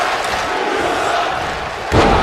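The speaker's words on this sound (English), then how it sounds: "Hard clothesline, this crowd letting her hear it" A wrestling crowd at Black Summer 2023 roars loudly after a hard clothesline, with sustained shouting and a sharp surge of noise near the end.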